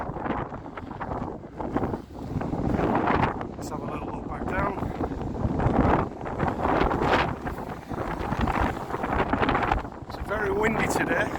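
Heavy wind buffets the microphone at a football ground, a loud, uneven rumble that swells and drops across the whole stretch while someone talks underneath.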